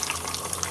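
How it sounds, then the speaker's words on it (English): Steady rushing water pours into a bucket of soapy wash-and-wax mix for a 2004 Ford Mustang Cobra convertible, a continuous close gush with no pauses. "we're just going to fill up a bucket with"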